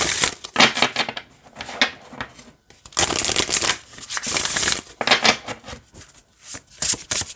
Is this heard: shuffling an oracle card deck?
yes